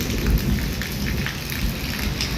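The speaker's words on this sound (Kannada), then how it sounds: "ಅಷ್ಟು ಜೋರು ಮಳೆ ಐತಿ" Heavy rain pours down in a dense, steady roar with no break, loud and close, with a low rumble underneath.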